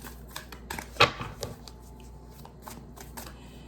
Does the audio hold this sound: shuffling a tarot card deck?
yes